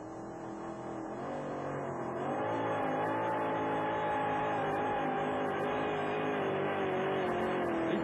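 A monster truck engine roars at a 1991 USHRA show in Anaheim, a loud sustained drone that rises in pitch and holds steady, heard from a distance over the arena.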